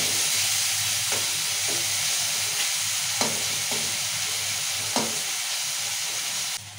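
Tomatoes and onions fry in salted oil in a pan, a steady close sizzle and hiss throughout, broken by a few distinct scrapes and taps of a spoon as they are stirred.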